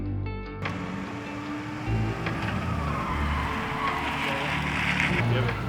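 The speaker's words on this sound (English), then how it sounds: "I'm gonna take Cole out for a quick test lap to make sure the car's running good" Drift car taking a test lap at a track, a loud engine roar rising in over a steady noisy wash after a brief quiet opening, heard from trackside, with people talking over it.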